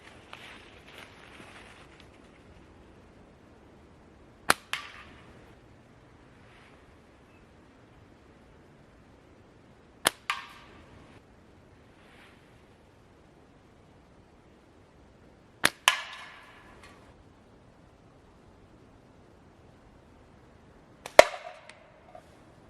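Slingshot fitted with TheraBand Gold bands and a GZK pouch firing 9.5 mm steel balls, four sharp snapping releases spaced about six seconds apart, each with a brief rattling tail, against a quiet outdoor background.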